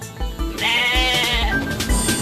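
Goat bleating loudly and continuously, a wavering harmonic cry that swells and holds close to the listener with no talk over it.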